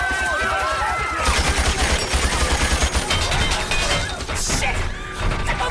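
Rapid gunfire crackles through a chaotic airport hangar battle in a 2003 action film, with loud bursts and crashing impacts layered over shouting voices and a dense, continuous din.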